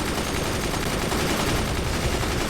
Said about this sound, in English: those are a lot of mortars indeed